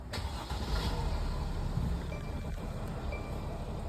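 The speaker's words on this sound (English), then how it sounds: "Gonna turn my key on, start it." A car engine is started with the key, with a steady mid-pitched running hum that continues through the clip and no talking.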